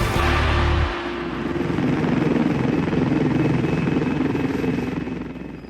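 Helimed 99, a Yorkshire air ambulance helicopter, flying over the dales and moors, its rotor producing a steady loud throbbing drone after a brief louder opening burst.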